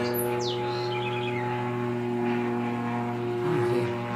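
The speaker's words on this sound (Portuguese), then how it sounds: "tá passando um avião." A propeller airplane passes overhead as a steady, low droning hum, with a few faint bird chirps above it.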